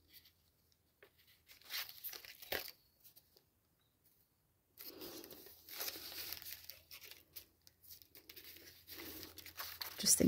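Plain paper being handled and crinkled while backing an envelope, with soft rustles and crumples that start intermittently and become louder and more continuous in the second half, close up, with no talk.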